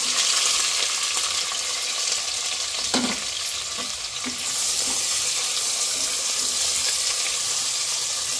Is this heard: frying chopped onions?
yes